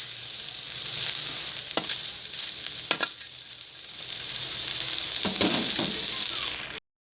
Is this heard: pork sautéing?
yes